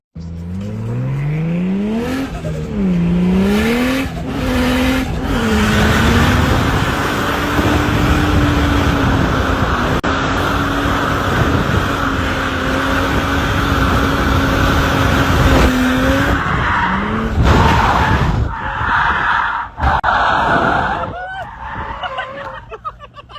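A Barra-swapped Toyota JZX100 cornering hard at Queensland Raceway, engine droning loud and steady while tires squeal in a long sustained howl, dropping off near the end.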